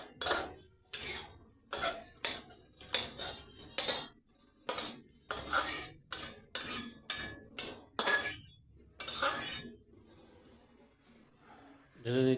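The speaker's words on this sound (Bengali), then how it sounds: "তো এরপর আমি এটাকে বাটির মধ্যে ঢেলে নেব।" A spoon or ladle clinks repeatedly against a bowl and a pot while jute leaf soup is poured out, giving sharp, evenly spaced metallic taps close to the mic.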